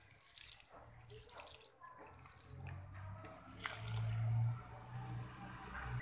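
Water is poured onto a newly planted maruvam (marjoram) plant in a pot, giving a steady splashing trickle that swells toward the middle and then settles, close by and heard alone.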